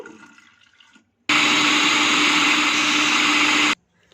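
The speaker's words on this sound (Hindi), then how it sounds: "दाल को पीसने के लिए आप ब्लेंडिंग जग का भी इस्तेमाल कर सकते हैं।" A blender jug grinds soaked moong dal with a little water into a thick paste, a loud steady whirring roar running for about two and a half seconds, starting and stopping abruptly, with no talk.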